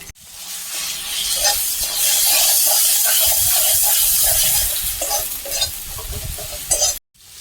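Grated ginger, salt, turmeric and chili powder frying in a pan with tomato, a loud steady sizzle with hiss and scraping stirring strokes throughout, then cutting off abruptly near the end.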